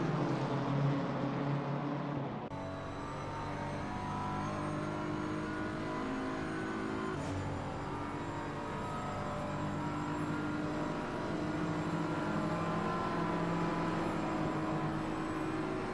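Race cars from a racing video game accelerate around the Nordschleife in an endurance event, a steady layered engine roar with rising harmonic whines and a sharp shift in tone early on, loud and continuous throughout.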